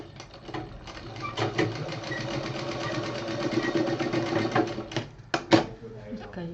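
A sewing machine stitches a fabric pouch for a foldable hanging organizer in bursts of rapid mechanical chatter, running steadily then stopping and restarting briefly near the end, close by with a voice speaking over it.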